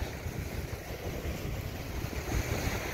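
Waves and wind at Manila Baywalk Dolomite Beach make a constant low surf wash, with steady wind buffeting the microphone.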